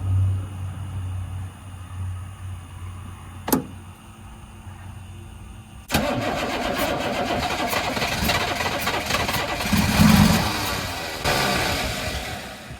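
A 1983 Chevrolet Squarebody truck's 6.2 diesel engine starts for the first time in years: a sharp click, then a sudden catch into a loud, rough, clattering idle that swells and settles.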